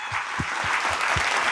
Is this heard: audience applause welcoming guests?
yes